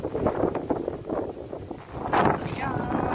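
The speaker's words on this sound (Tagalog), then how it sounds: "Lakas ng hangin, no?" Gusty wind buffets the microphone in uneven bursts, with faint voices and rustling mixed in close by.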